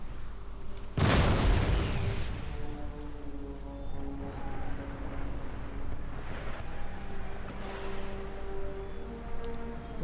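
Artillery firing in Empire Total War, with one sharp, heavy boom early on and then a long rumbling decay, and faint tonal battle sounds and distant bangs after it, with no talk.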